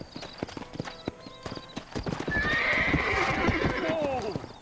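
Horse hooves clip-clopping in a steady trot, then a loud drawn-out neigh, in the video game Red Dead Redemption 2; someone talks over the hoofbeats.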